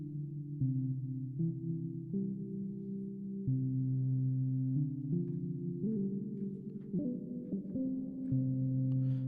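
A synthesizer pad built in Reaktor from a saturated sine wave plays sustained, warm chords that shift through a slow progression of held notes, clean and alone.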